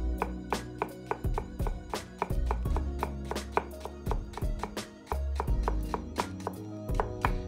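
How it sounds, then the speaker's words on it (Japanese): Knife slicing myoga ginger thinly on the diagonal against a cutting board, a quick steady run of crisp chopping taps, close and fairly loud, with no talking. "みょうがを切っていきます まずは縦半分に切る スッと切る そうしたら、 えー、斜めに薄切りにしていきます"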